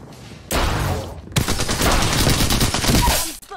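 Gunfire in the video game Apex Legends, loud rapid bursts of automatic shots in quick succession, close and intense, with brief gaps between volleys.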